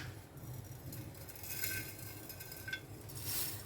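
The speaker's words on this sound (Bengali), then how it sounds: "এটা গরম হয়ে গেছে, এর মধ্যে আমি এবার কাস্টার্ডটা দিয়ে নাড়তে থাকবো।" A spoon stirs custard into hot milk in a pan, giving faint metallic clinks and scrapes now and then over a soft, steady background.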